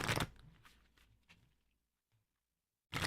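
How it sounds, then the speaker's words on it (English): Tarot cards shuffled by hand for a reading, giving a burst of papery riffling at the start, a few softer rustles that fade to near silence, then another loud shuffle at the end. "So let's go ahead and shuffle."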